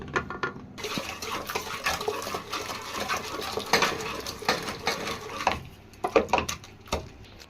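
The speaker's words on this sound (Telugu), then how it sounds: "పప్పు గుత్తి తీసుకొని నేను చూపిస్తాను ఏ విధంగా మ్యాష్ చేసుకోవాలనేది" Cooked gongura leaves and rock salt are mashed with a wooden masher for a Muslim wedding-style chutney, giving a steady close run of rhythmic scraping and squelching against the pot, with no talk.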